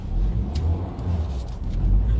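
Cars speed past on a motorway near a slip road, a loud continuous rumble of passing engines with swells as vehicles go by close to the microphone.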